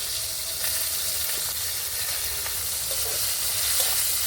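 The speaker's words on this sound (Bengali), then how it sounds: "মশলাটা ভালোভাবে একটু ভেজে নেব" Ground cumin, coriander and chili pastes fry in hot oil in a pan, a steady close sizzle and hiss with faint stirring scrapes and no talking.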